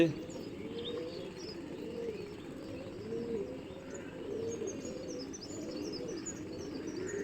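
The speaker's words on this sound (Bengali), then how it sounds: "ঝাঁক অনেক উপরে চলে গেছে, আর কয়েকটা পায়রা নিচে আছে।" Soft, repeated cooing of pigeons, low and rolling, with faint chirps above and a steady outdoor hum underneath, as a flock flies high overhead.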